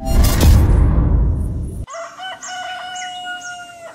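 Chicken sounds in the video game Turbo Chicken Simulator: a loud, noisy crowing burst gives way to a series of repeated, tonal clucks and calls over faint background.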